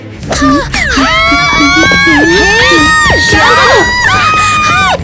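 Loud, overlapping high-pitched screams from several voices rise and waver almost without pause, with shorter shrieks cutting in near the end.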